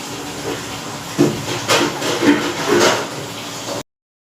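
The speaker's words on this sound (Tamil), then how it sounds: "போதும், சிக்கன் வறுக்கிறேன் பாருங்கள்." Chicken 65 pieces sizzle and spit in hot oil, a steady hiss of frying with a few louder crackling bursts, close and alone, ending abruptly in silence.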